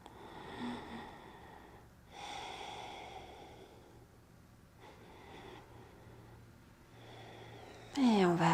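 Slow, steady breaths during a pilates exercise, several soft inhale-exhale swells spaced a couple of seconds apart and heard close up, with a sharper sound cutting in at the very end.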